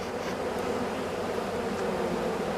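Honeybees buzz steadily inside a hive with spaced frames, a dense continuous drone at close range with no pauses or voices.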